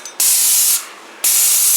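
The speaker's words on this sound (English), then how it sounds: "okay, spray this little cupboard out." A paint sprayer coats a small cupboard during a full interior repaint of a 1943 house, giving two loud, steady hissing bursts split by a short pause, with no talking.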